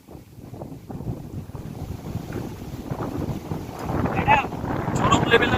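Strong wind buffets the microphone outdoors at a farmhouse, a steady low roar that builds louder toward the end, with voices talking faintly underneath.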